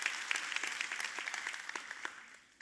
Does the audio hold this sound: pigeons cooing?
no